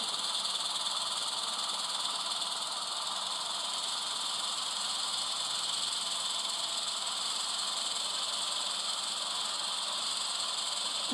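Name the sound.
HO scale Rapido model train running with DCC sound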